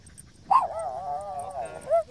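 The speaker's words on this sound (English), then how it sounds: "She's trying to play. Yeah, she's a nice doggy." A small female dog gives a short yip followed by a drawn-out whimpering whine and a final yelp, fairly close but soft, during friendly play.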